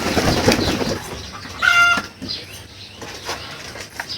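Pigeons at a pigeon farm flap their wings in a quick burst close by as they fly off, followed by softer fluttering and a few faint bird calls.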